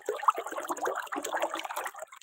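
Water forced out under heavy pressure, rising upward and carrying stones along, makes a steady churning rush with sputtering surges, moderately loud and close, with no talk.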